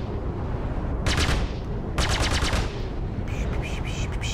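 Ship turrets firing in the space game Star Citizen, two loud rapid bursts of automatic fire followed by a lighter rattling volley, over a constant deep rumble of the ship.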